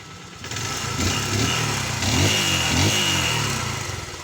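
A Yamaha X150 motorcycle engine with a new carburetor idles with a steady rumble, then revs up twice and settles back down, close and fairly loud.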